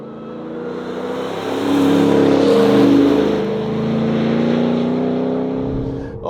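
RAM TRX Final Edition pickup truck accelerating hard around a track in sport mode, a loud deep engine roar rising in pitch, easing briefly and then building again, no talking.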